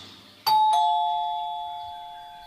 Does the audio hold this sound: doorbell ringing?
yes